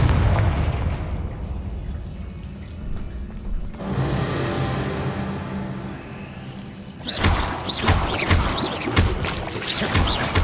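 Fiery Confringo spell blasts in a Hogwarts video game: a rumbling low boom at the start, a sustained hiss, then a burst of sharp crackling impacts near the end, all loud and close with no talking.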